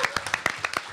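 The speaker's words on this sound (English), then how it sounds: "Please give a round of applause." Applause for mentors of Pacific Islander youth at a youth roundtable on teaching, with distinct separate claps in a quick irregular run, fairly close, and no talk over it.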